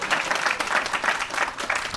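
Applause from the audience at a ribbon cutting for a Mid City loft, a steady, fairly loud wash of clapping hands throughout the short stretch.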